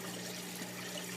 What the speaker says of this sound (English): just the water coming inside the pipe itself